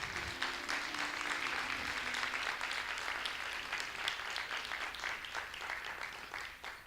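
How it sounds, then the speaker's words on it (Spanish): A church congregation applauding at a sermon, dense sustained clapping from many hands that fills the room and tapers slightly toward the end, with no voices over it. "Un aplauso a Dios, que Dios es fiel."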